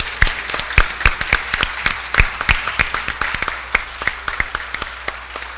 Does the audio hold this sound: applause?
yes